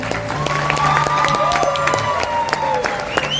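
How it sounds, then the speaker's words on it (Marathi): An audience claps steadily and loudly at the Aamhi Konkankar awards ceremony in Mumbai, with a voice audible over the applause. "मला वाटतं एवढ्याच टाळ्या पुरेशा असतील का"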